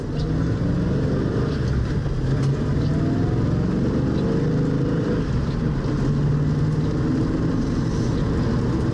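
A 1966 Ford Mustang pulling away on a road, its engine and road rumble a steady, loud drone that fills the whole stretch without pauses or distinct revs.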